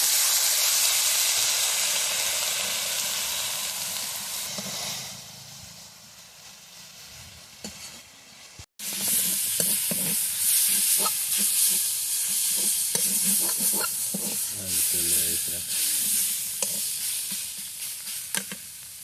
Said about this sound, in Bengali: এটাকে সুন্দর করে ভাজতে হবে